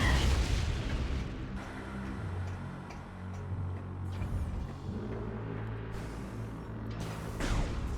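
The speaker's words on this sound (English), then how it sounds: "Weapon fire will disrupt the gel and cause the creature to detonate." In Metroid Prime, an unstable fuel-gel insect creature blows up under weapon fire, giving several separate explosive bursts spread across a few seconds over a steady ticking, humming game backdrop.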